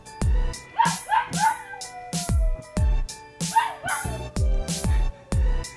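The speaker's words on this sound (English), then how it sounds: "everybody just left and went to the park, and my dog is crying." A dog left alone at home whines and cries in rising whimpers mixed with sharp repeated barks and yips, close and fairly loud, in a rhythmic series of bursts with no talk.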